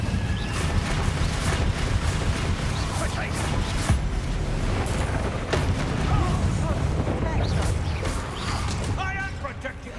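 A Confringo fire-blast spell from the game Hogwarts Legacy goes off amid a dense, continuous barrage of booming explosions and crashing impacts, loud and close throughout, while a person talks over the combat.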